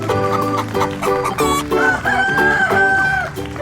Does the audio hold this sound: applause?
no